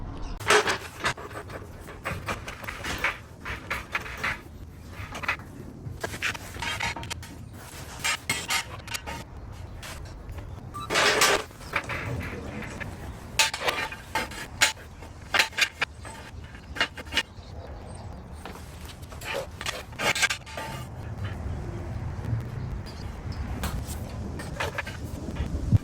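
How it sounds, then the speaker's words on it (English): A Subaru WRX is raised onto jack stands, with irregular metallic clanks, scrapes and knocks from the jack and stands, close by and fairly loud, with no talking. "So let's get this up on the jack stands and we'll take it from there."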